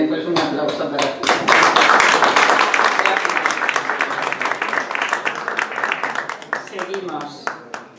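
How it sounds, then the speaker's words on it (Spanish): Applause at a Spanish poetry evening breaks out and holds steady for several seconds as a dense patter of clapping hands, fading near the end while voices murmur underneath. "un aplauso para ti"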